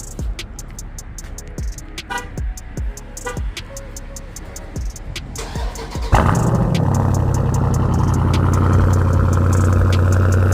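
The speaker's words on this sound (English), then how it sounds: "Give y'all a quick cold start of the Durango SRT right quick." Several clicks of a Dodge Durango SRT engine cranking on a cold start, then the big motor roars to life and settles into a loud, deep, steady idle.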